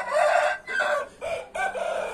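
A rooster crows at close range in a single loud call broken into several strained bursts, with no one talking.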